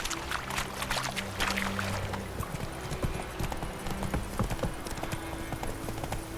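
In The Witcher III, Geralt's horse Roach gallops in a brisk, steady rhythm of hoofbeats, loud and close, with game ambience and a faint voice underneath.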